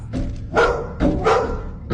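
A dog barks and yips in several sharp bursts at a back door at night, close and loud, with a voice faintly present between the barks.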